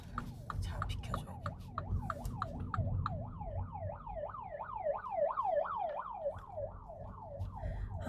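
An ambulance siren wails in a steady repeating up-and-down sweep, heard from a car pulling aside on a road as the emergency vehicle passes, loud and close over low traffic rumble.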